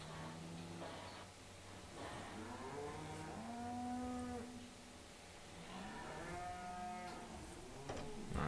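Cattle mooing in the Farming Simulator 17 video game, several long drawn-out lowing calls overlapping one after another, fairly close over a faint background hiss.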